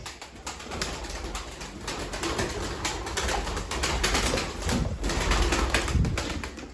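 Pigeons that are being sent to Germany coo softly nearby, with bursts of wings flapping mixed in.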